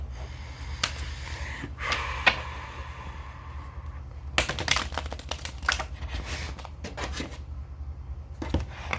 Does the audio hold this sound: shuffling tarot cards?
yes